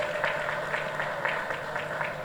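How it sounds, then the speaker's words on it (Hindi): Audience applause at a housing society award ceremony in Thane, a steady, evenly paced clapping from a crowd that sounds a little distant and fills the whole stretch. "एक बार जोरदार तालियां सभी सोसाइटी मेंबर्स के लिए."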